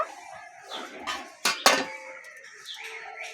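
A metal lid is lifted off a cooking pot of rice flour dough, with two sharp clanks close by amid lighter clinks of cookware, and birds faintly in the background.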